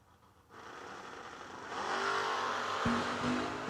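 Drag race cars, including a Chevrolet Malibu wagon, launching down the strip, heard as a rising, fairly distant engine roar that builds and holds to the end.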